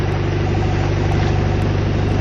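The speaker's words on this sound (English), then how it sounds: "so that's why the engine's running. I'm giving it a good charge" A boat's engine runs at a steady idle to charge a drained house battery, producing a loud, continuous low throbbing drone with an even rhythmic pulse and no talking over it.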